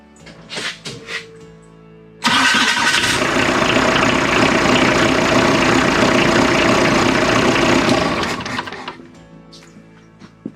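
A diesel right-hand-drive Jeep TJ Wrangler, with a reworked serpentine belt system and a new idler pulley, cranks and catches. It then holds a loud, steady rattling idle for several seconds before shutting off.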